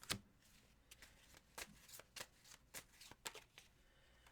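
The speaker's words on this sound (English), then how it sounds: "I have a whole bunch of cards mixed up in here." A deck of tarot cards is shuffled by hand in a quiet room, about a dozen soft riffling flicks in an uneven rhythm, close and faint with no voices.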